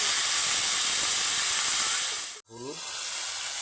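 Panch phoron, the five-spice mix, hits hot oil with a loud continuous hiss that cuts out abruptly near the end and then returns more quietly, with some brief tonal sounds in the gap.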